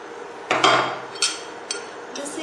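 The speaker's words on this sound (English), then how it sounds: "Just give it one light stir" A spoon stirs rasam in a pot, giving a few separate metallic clinks and scrapes against the vessel, close and fairly crisp, spaced out over a couple of seconds with no voices.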